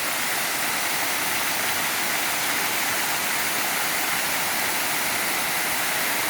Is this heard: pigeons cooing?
no